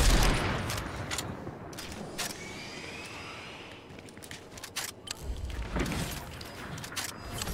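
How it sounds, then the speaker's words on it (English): Gunfire in a video game: bursts of rapid shots and scattered single cracks over a constant background rumble, loud at the start and rising again toward the end. "What are they shooting at?"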